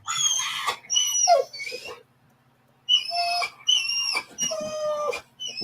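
A pet dog barks in excited bursts at close range, several quick runs of sharp yelps split by a short pause, with a low hum underneath.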